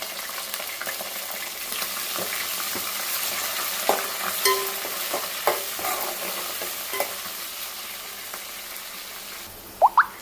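Green chillies, onion and curry leaves fry in oil for a drumstick dal rasam, giving a continuous crackling sizzle with occasional spoon scrapes and a couple of sharp knocks at the end.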